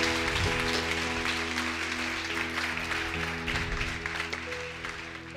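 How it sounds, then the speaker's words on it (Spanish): A church congregation applauds during a Spanish-language sermon, a broad, steady wash of clapping that fills the whole stretch, with sustained organ or keyboard tones underneath and faint voices mixed in. "Alguien déle un aplauso a Dios si puede hacerlo"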